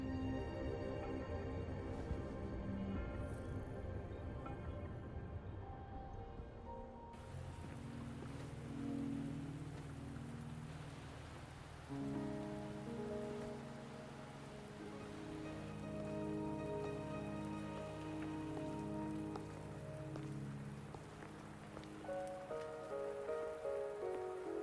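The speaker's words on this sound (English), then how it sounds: "Are you trapped here by the rain?" Steady rain falls in the game Wuthering Waves, a constant soft patter running throughout, with a musical score playing over it.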